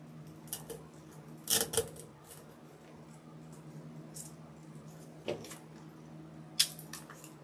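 A few quiet snips of scissors cut material for a Dollar Tree craft project, clustered early and then sparse, over a low steady background hum.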